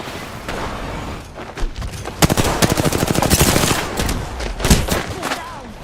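Gunfire crackles in a video game firefight: sharp single shots build into dense rapid bursts, loud and close, with a couple of heavier thumps near the end and a voice talking faintly underneath.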